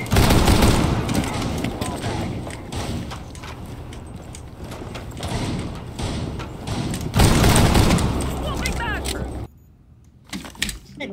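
Gunfire in the shooter game Rainbow Six Siege, repeated bursts of automatic fire and booms with loud passages, under a player's talk, then a quieter gap and a few final shots.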